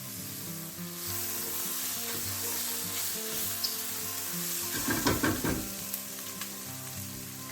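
Turmeric and curry powder cook in a hot pan for a squash and cashew curry, giving a steady close sizzle with scraping stirs that grow busier midway, no voices.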